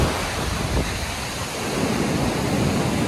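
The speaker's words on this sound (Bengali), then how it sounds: "বিশাল জোরে ঢেউ মারছে, বিশাল জোরে ঢেউ মারছে।" Strong sea waves crash and roar continuously at Mandarmani beach in Bengal, with loud broadband surf and wind buffeting the microphone.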